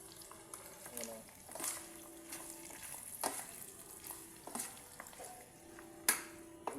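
Bopis being stirred in a cooking pan, a utensil scraping and clinking against the pan in irregular strokes over a soft sizzle, fairly quiet and close.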